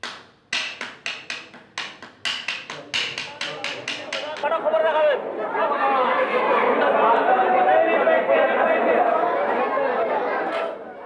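Noisy bazaar crowd with dense overlapping chatter filling the second half, preceded by a series of sharp clapping hits that fade and give way to the sustained babble.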